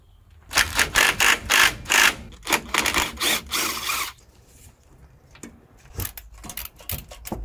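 A socket wrench with a 14 mm socket ratchets off the pivot bolts on a Nissan Patrol 4x4 axle. About ten loud, even ratchet bursts come in quick succession, then a quieter spell follows with a few faint clicks near the end.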